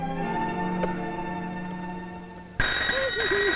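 An electronic telephone rings suddenly after a steady background hum, a loud repeating warbling tone close by.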